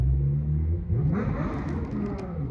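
A motorcycle engine revs outdoors, a steady, loud low rumble with a rising whine partway through, continuing throughout without any speech.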